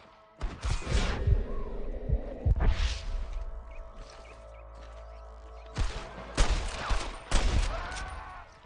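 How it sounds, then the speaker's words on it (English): Several bursts of gunfire in Red Dead Redemption, sharp and punchy, spread unevenly over a low rumbling background. "I can hear more gunshots."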